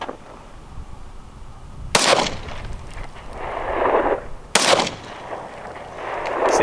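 Two sharp, loud rifle shots ring out about two and a half seconds apart, each firing Federal ammunition outdoors and followed by a rolling echo across open ground.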